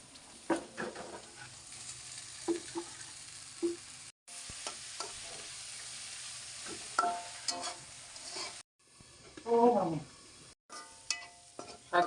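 Leafy greens fry and get stirred in a pan, with a steady sizzle broken by repeated scraping and stirring strokes and a few brief pauses, and no voices.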